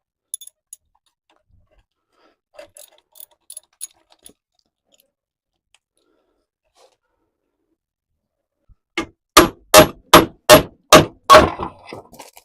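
A cotter pin from a tie rod castle nut on a Club Car DS golf cart, pulled free and flung across a floor, giving a burst of bright clanging bounces near the end after faint scattered clicks.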